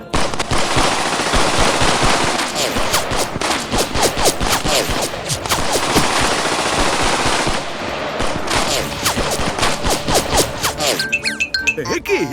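Cartoon machine-gun fire in an animated Durga and Mahishasura battle scene: long rapid bursts of loud, crackling shots, broken by short pauses and ending in metallic clinks, with character voices mixed in.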